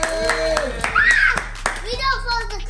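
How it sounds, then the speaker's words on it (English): A few people clapping in short uneven bursts in a room, mixed with children and adults talking and cheering over it. "Clap it up for Team Down."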